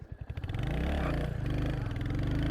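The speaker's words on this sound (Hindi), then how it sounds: "ये बाइक इंस्टेंट पिकअप देती है, ठीक है, एकदम उछल जाती है बाइक" A 2025 Royal Enfield Hunter 350 OBD2B motorcycle with 27 Nm of torque pulls away hard. Its engine note is loud and close, rising as it accelerates, with a steady throbbing drone and no voices.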